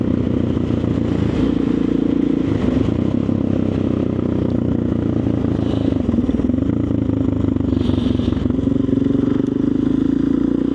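A motorcycle runs steadily on a field, its engine note holding a continuous low drone throughout with slight rises and dips and some clatter, close and loud with no talking.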